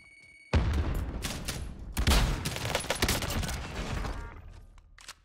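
Rapid bursts of automatic gunfire in Call of Duty Warzone, a dense, loud fusillade that starts abruptly and rattles on for several seconds with sharp repeated cracks, fading slightly toward the end.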